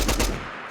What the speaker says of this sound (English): I'm going to shoot the weapon, and I'm not going to control the recoil.